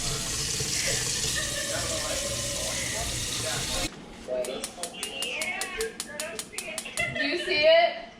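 Tap water runs steadily into a pot in a home kitchen for boiling pasta, a constant rushing flow that stops abruptly, followed by clattering kitchen sounds and a person talking.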